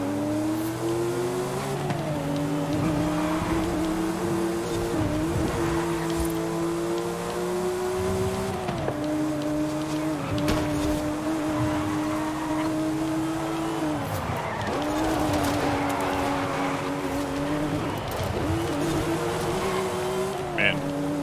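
A race car's engine in Forza Horizon 5 drones and climbs through repeated gear shifts, revving up and dropping back in cycles, with occasional tire squeal and someone talking over it.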